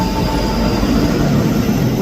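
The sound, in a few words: ScotRail train 334018 passing at Edinburgh Haymarket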